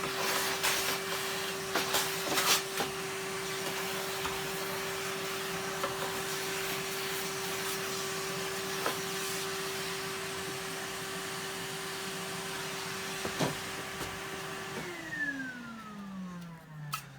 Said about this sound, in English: There's going to be a lot of vacuuming for the next bit.